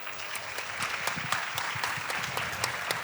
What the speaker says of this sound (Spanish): Yo voy a pedir un aplauso, por favor.